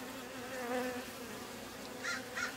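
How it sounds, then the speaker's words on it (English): Soft, steady buzzing of honey bees fills the background, with a few brief louder hums as individual bees pass close by. "Nice healthy bees."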